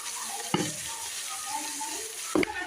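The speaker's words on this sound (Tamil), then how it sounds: "தக்காளியை சேர்த்து இப்போ நல்லா வதக்கணும்." Tomatoes and onions fry in a pan, giving a soft steady sizzle, broken twice by sharp clatters of a spoon stirring against the pan.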